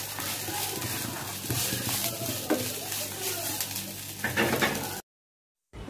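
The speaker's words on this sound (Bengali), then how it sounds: "এভাবে আস্তে আস্তে আমি ভাজি করছি" Dried jute leaves frying slowly in a pan over low heat make a soft crackling sizzle with stirring clatter, before a sudden cut to silence near the end.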